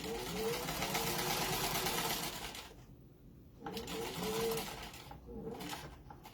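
A sewing machine stitching fabric around corners, a fast mechanical whirring hum that runs steadily, pauses briefly, then starts again in short bursts, close and clear.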